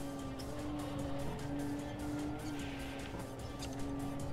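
Racing car engine in the Import Tuner Challenge video game, a steady loud drone at high revs with a faint tire squeal mixed in, continuous with no gaps and no talking.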